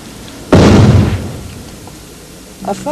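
A balloon filled with hydrogen and oxygen detonates in a single sudden, loud boom. The blast fades into a decaying rumble over about a second, followed by quiet.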